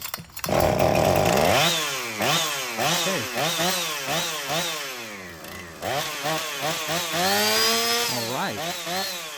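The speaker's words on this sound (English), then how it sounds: "now let's test start the saw" Husqvarna 455 Rancher chainsaw started after a fuel system rebuild, its engine revving up and down repeatedly in loud rising and falling whines, then settling into a steady high run, close and alone.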